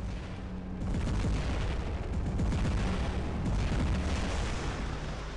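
A robot fires Redeemer weapons in War Robots, a continuous heavy barrage of booming, crackling blasts that stays loud and dense throughout.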